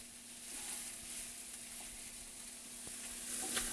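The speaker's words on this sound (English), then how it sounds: "as this is sauteing, you want to start breaking it up into smaller pieces with your wooden spoon" Sausage sautés in a pan while a wooden spoon breaks it into small pieces, a soft, steady sizzle with faint scraping and occasional light knocks, quiet and with no voices.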